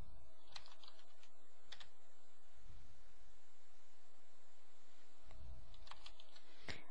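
Computer keyboard keys are tapped in a few short bursts of crisp clicks separated by pauses, quiet and close against a low background hiss.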